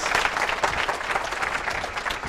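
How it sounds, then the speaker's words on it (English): A crowd at a lockpicking talk claps steadily, a dense burst of applause filling the room for a couple of seconds. "Round of applause, please."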